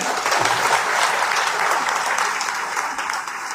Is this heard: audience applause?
yes